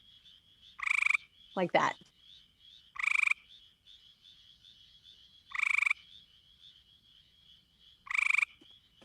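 Four pulsed bursts of tree frog calling at a quick rate, spaced evenly and fairly close, each trill rapid and bright; a voice briefly speaks between the first two calls.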